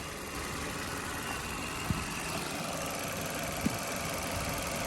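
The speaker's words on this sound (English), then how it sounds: "Motor runs very quiet." A Chevy Malibu engine idles quietly and steadily under an open hood, a low even hum with two faint clicks.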